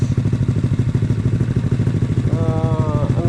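A Honda Click 160 scooter engine fitted with an Akrapovic exhaust silencer runs steadily at close range with a loud, throbbing idle, and a brief rise in pitch near the end.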